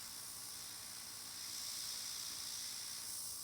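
An airbrush sprays Airnails paint over a stencil with a soft, steady hiss that swells slightly partway through, faint and continuous with no voices.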